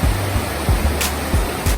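Steady broadband rush of a river flowing below a waterfall at a tourist spot in Baler, Philippines, a continuous close wash of water with a few brief low thumps and splashes.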